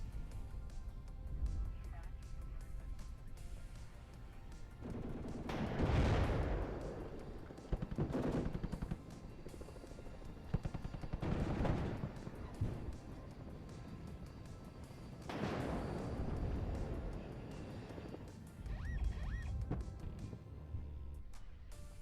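Artillery bombardment in the WARNO real-time strategy game, several heavy blasts and bursts of rapid gunfire rising in waves over a constant battlefield rumble, with distinct loud impacts near 6, 11 and 15 seconds.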